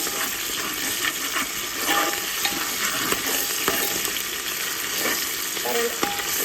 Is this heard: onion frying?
yes